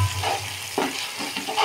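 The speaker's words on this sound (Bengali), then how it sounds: "বেটে রাখা জিরে, বেটে রাখা ধনে, সমস্ত মশলা দিয়ে মশলাটা খুব ভালো করে কষে নেব।" Ground cumin, coriander and chilli masala fried and stirred in a pan for egg and potato curry, with soft sizzling and intermittent scraping strokes of a spoon, close and steady, no talking.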